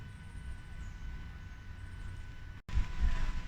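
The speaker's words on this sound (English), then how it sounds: "Super windy." Strong wind blowing outdoors near water, a steady low rumble of microphone buffeting that briefly cuts out and then returns even stronger, with a faint high tone above it.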